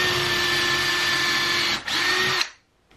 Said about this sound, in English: I have a 3/16 drill bit on my drill, and I'm just going to drill holes into these studs